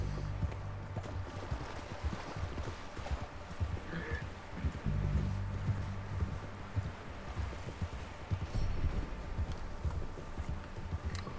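A horse's hooves clip-clop at a steady walking rhythm in Red Dead Redemption 2, the footfalls continuous and moderately close over a low ambient background, with no talk.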